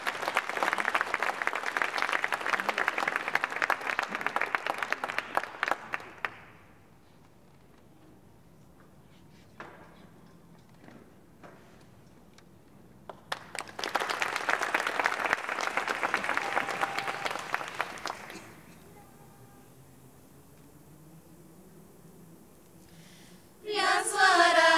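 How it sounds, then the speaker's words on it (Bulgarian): An audience at a night of choir concerts applauds in two long, dense rounds separated by a quiet stretch with faint rustling and a few claps. The sound cuts off abruptly at the end. "Нека ги посрещнем с аплодисменти."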